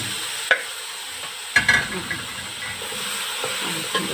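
Chopped onion hits a hot pan and is stirred, a soft continuous sizzle and hiss broken by a few sharp scraping knocks of the spoon against the pan.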